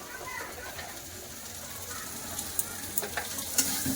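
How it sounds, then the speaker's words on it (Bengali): Potatoes and spices fry in hot oil as they are stirred, giving a steady low sizzle with a few sharp scrapes and clicks of the utensil toward the end. "আলুর সাথে মশলাটা খুব ভালো করে কষে নেবো"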